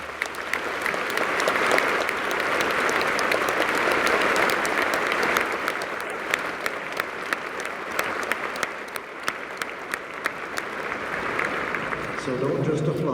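Sustained applause from a large religious convention audience thanking volunteers, a dense, even roar of clapping that fills the hall for many seconds, with scattered sharper claps standing out and faint voices underneath near the end.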